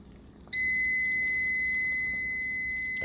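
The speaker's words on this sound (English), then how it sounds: "So timer went off at a minute" Kitchen timer set for one minute goes off with a steady, piercing electronic tone that starts abruptly and holds for several seconds, fairly close in an otherwise quiet room.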